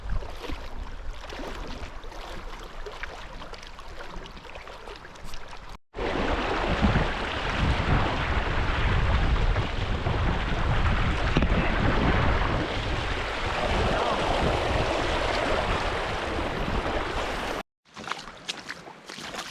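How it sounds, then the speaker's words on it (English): A creek used as a hiking trail on the Eagle Rock Loop, its flowing water rushing loudly and steadily close by and mixed with wind buffeting the microphone, with no talking. "So it looks like our trail is a creek."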